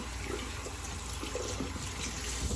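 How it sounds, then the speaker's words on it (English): Cold water running from a bathroom tap while preparing a wet shave, a steady low rushing stream with faint splashing, continuous and moderately quiet. "So cold water to make the lather, cold water to get that razor ready to hit the face."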